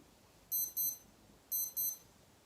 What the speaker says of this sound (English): Oh, there's an alarm going off.